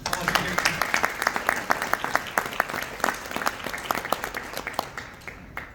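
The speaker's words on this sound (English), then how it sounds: "A round of applause." An audience applauds at a business awards ceremony, a dense crackle of many clapping hands that holds steady for several seconds and then slowly thins, heard alone and fairly close.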